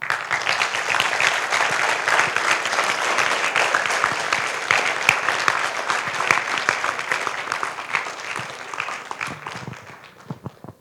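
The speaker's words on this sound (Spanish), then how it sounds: "le pido un gran aplauso para él" A lecture audience gives sustained applause for astronomer Dr Guido Garay after his talk on where and when stars form, a dense, steady clatter of many hands that fades near the end.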